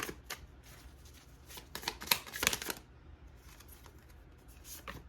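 Tarot cards are shuffled and drawn nearby, with soft riffling flutters and a couple of sharper flicking snaps as cards are handled, fairly quiet overall.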